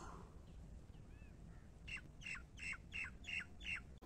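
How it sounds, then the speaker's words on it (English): A redhead duck calls in a series of about six harsh, evenly spaced squawks, each short and fairly close, coming in after a quiet noisy start. "This is the redhead duck, which is used for the attraction of birds for the hunting."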